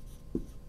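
Writing on a board during a lecture on respiratory gas exchange, a brief, faint scratchy stroke or two of the marker against a low background hum, with no talking.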